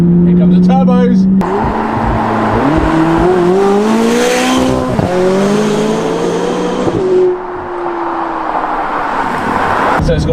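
Turbocharged McLaren 570GT in sport mode and manual gearbox, engine rising in pitch through several gear changes, loud and close, with a voice talking over the run.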